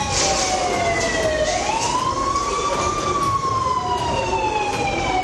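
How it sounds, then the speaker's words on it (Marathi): An air raid siren wails during a mock security drill, its rising and falling tone sounding loud and continuous across the whole stretch with no voices over it. "मॉक ड्रिलमध्ये सायरन वाजवून लोकांना अलर्ट केलं जातं"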